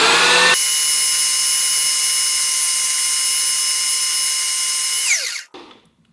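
A belt sander grinds a blade, a loud steady whine with sharp tonal ringing that holds for several seconds, then winds down and dies away near the end.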